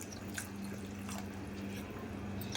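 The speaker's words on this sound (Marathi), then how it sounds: "थोडंसं याच्यात पाणी मी गरम पाणी ॲड करत आहे" Hot water is poured into a simmering cluster bean (guar) rassa curry, giving a faint, quiet trickle and drip over a steady low hum with no talking.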